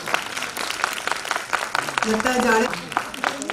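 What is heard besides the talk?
audience applause at a book launch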